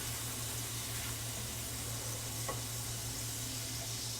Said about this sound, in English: put our hamburger in with the mushroom, because I don't think my skillet's big enough to hold all the things